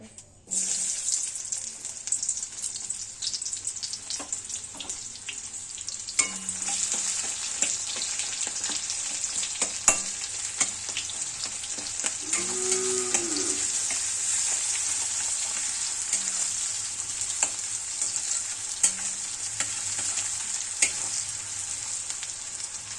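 Onions sizzling in a hot pan for spicy matar paneer, a steady frying hiss with occasional scraping stirs, heard alone without talk.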